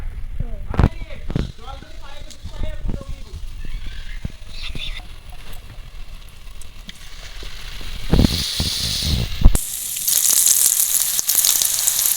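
Spiral potatoes sizzle and crackle in hot oil, with intermittent clatter and handling noises, a burst of louder frying hiss near the end.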